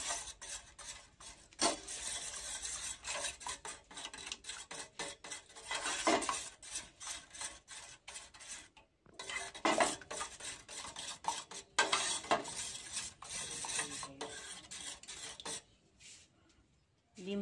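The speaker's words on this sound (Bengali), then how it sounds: "ডিমটা ভালো করে মিক্সড করব ডিমটাকে, যাতে ঝাল নুন পেঁয়াজ ভালো করে মাখানো হয়" A spoon or fork whisks raw egg with chilli, salt and onion in a bowl, giving quick, close scraping and clinking strokes in uneven bursts with brief pauses between them.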